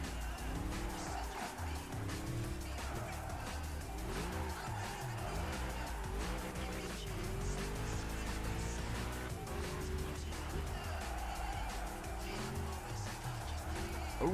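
A car races through a turn in Gran Turismo 5 played on the RPCS3 emulator, with a steady rising and falling engine whine and continuous tire squeal and skidding throughout.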